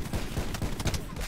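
Rapid bursts of gunfire in a video game gunfight, a dense clatter of overlapping shots filling the whole brief moment, loud and close.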